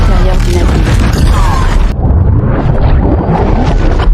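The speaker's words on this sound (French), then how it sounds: "provoquant une explosion à l'intérieur du navire." A loud, rumbling boom erupts inside a ship in the Aquaman film, with dense, continuous blast noise and debris that stays intense throughout.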